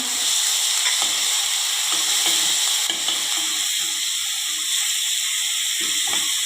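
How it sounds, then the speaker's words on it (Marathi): Ground garlic and green chilli hit hot oil in a mustard and cumin tempering, giving a loud, continuous close sizzle with soft stirring clicks underneath, no voices. "आपण वाटलेलं लसूण आणि हिरवी मिरची घालूया"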